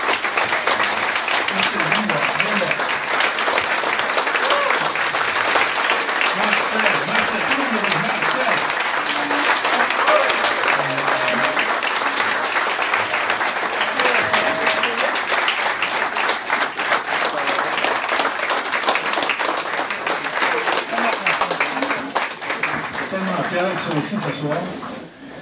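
Long, sustained applause from an audience at a snowmobile pioneers' club 50th anniversary for Marcel Hawkins, steady loud clapping with crowd voices murmuring beneath throughout.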